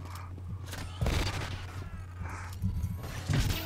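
A grenade goes off in the online game SWTOR, with several heavy bursts and booms in a rough, repeating pattern among other combat noise, while faint voices sit under the blasts.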